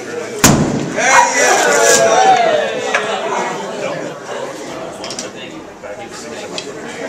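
A wall is smashed during a ceremony at a car dealership, starting with a sharp loud impact, then clattering debris, with chatter and voices from the gathered crowd throughout.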